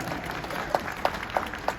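An audience applauds during a tennis hall of fame event, a thin scattering of claps with a few distinct sharp hits standing out over a low crowd murmur.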